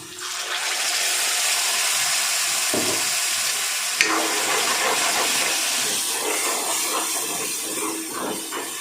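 Ground masala paste of ginger, garlic, coriander, mint, tomato and green chilli sizzling and hissing as it hits sautéed onions in a pan for a restaurant-style egg gravy, a steady close steamy crackle throughout with a brief clatter partway.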